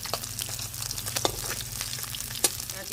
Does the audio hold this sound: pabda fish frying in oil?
yes